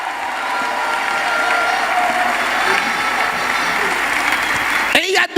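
A large audience at a network marketing event bursts into sustained applause and cheering, a dense, loud wash of clapping that holds steady for several seconds before breaking off abruptly.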